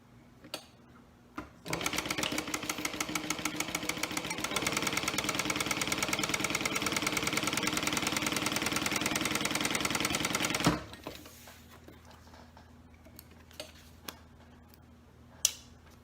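A sewing machine stitches a vinyl zipper pouch in one steady run of about nine seconds. It hums and ticks rapidly close by, starts and stops abruptly, and a few light clicks and taps follow in the quiet.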